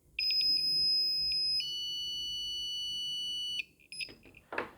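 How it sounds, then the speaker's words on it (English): An Ei100B smoke alarm with a battery inserted emits a steady, piercing high-pitched squeal that shifts tone partway through, then breaks off into brief rustling handling noise near the end. "when you put a battery in it, it just does a squealy sound and it just lasts forever"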